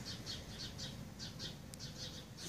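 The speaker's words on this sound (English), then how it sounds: "You got birds that are eating right there on that platform." Birds squawk over and over in quick, overlapping calls against a steady outdoor hiss.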